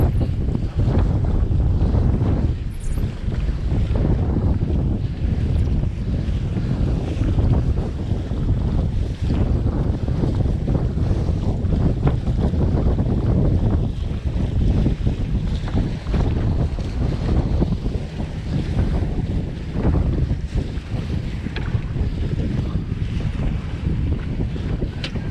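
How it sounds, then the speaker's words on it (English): A sailboat pounding through waves in strong wind, with loud, continuous wind buffeting and rushing water sloshing against the hull, close and unbroken with no talking. "Hitting those waves."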